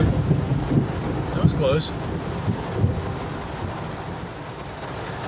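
Rain pattering around a cabin during an urban camping night as a thunderstorm rolls through, with soft thunder rumbles and a voice speaking briefly over the storm.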